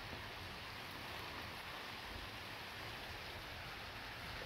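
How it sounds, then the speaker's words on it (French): Soft, even patter of rain falling steadily at night during a thunderstorm, faint and constant throughout with no talking. "Il se remet à pleuvoir."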